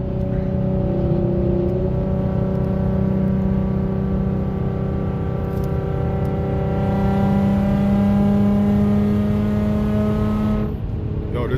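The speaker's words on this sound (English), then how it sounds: "this exhaust is so loud" A loud Infiniti G35 with a Tomei aftermarket exhaust drones at high revs, the engine pitch climbing and holding in long sustained tones before dropping off at the end.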